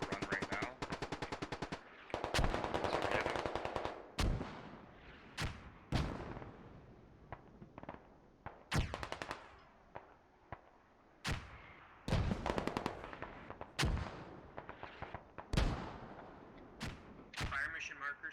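Mortar rounds and gunfire crack in the tactical shooter game Squad, with repeated sharp bursts, single shots and heavier booms in an irregular rhythm, some close and loud, others distant, while players talk over radio between them.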